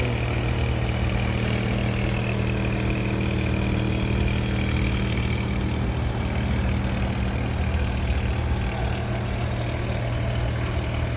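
A boat engine used for watering plants runs continuously with a steady low drone and hum, close and loud, with no change in pace and no voices.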